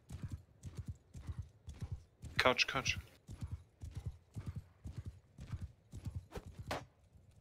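Horse hooves clip-clop in a steady galloping rhythm throughout a Bannerlord Online multiplayer battle, with a brief whinny partway through, all under continuous talk from players.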